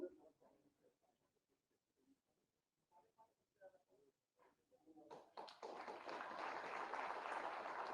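At a farmers' ceremony, an audience breaks into loud, sustained applause that swells and keeps going, following a stretch of quiet announcing over a microphone.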